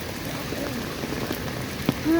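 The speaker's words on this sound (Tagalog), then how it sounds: "Sana tumila ang ulan." Dense patter of rain falling on a surface in Taipei, Taiwan, steady and close, with a short tonal whine near the end.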